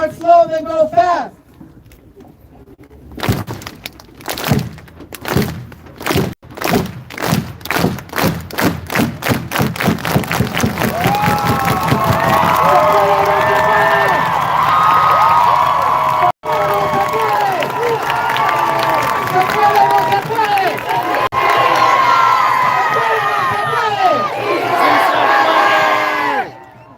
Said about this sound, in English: We're going to do a nice organized unity clap. Follow me, start slow, then go fast.